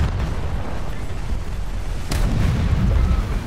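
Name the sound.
85mm main gun fire from MPK-163 in video game War Thunder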